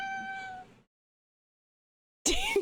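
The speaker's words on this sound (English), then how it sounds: "Do you guys hear my cat?" A cat meows loudly and close by in two separate calls, a long drawn-out tonal meow followed by a pause of silence and then a shorter, harsher meow.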